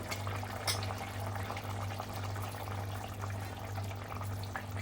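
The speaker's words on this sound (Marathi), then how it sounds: "अगदी मिडियम गॅसवरती चवळी शिजत आपण ही भाजी शिजून घ्यायची आहे झाकून ठेवून" Cowpea vegetable simmering covered on a medium gas flame, a faint continuous bubbling over a steady low burner hum, with no talk.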